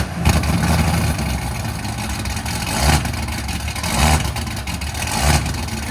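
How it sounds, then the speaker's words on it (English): A 1,900 hp Cadillac CTS-V with headers and Corsa Xtreme exhaust idles with a loud, lumpy rumble, surging on its own into three or four rhythmic rev swells about a second apart. "He's not revving it, it's revving itself like that."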